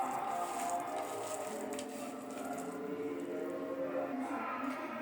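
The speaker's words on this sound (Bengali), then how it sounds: "তারপর আমি শুটকি আর পেঁয়াজ রসুন মাখাবো।" Dried fish is mixed by hand with onion, garlic, dried chili and mustard oil, a soft, close, continuous squishing and patting of wet food being mashed.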